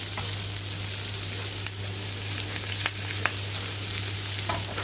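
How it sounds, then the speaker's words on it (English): Coarsely chopped celery and carrots sizzle in a hot pan for a Greek butter bean dish, a steady close frying hiss with a few sharp crackles and stirring taps, no talking. "We're going to get the celery in and the carrots"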